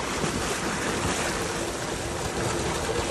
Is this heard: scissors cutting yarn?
no